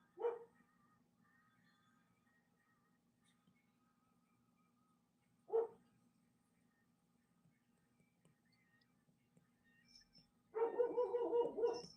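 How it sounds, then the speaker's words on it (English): A dog barks outside in short bursts spread across a quiet room: two single distant barks, then a longer cluster of yips and barks at the end. "My dog is barking outside."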